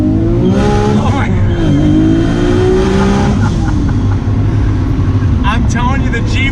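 A 1990 Nissan Skyline R32 tuned to 615 hp, heard from the cabin: a loud engine rises in pitch through hard acceleration, drops with gear shifts and climbs again. Turbo and exhaust whistles come near the end, and voices come in over it.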